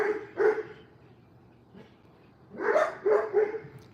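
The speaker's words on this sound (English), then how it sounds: "that dog is noisy tonight" A dog barks in a few separate bursts, one early and a quick cluster of three near the end, heard at moderate distance indoors at night with no talk over it.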